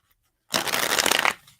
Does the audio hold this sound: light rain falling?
no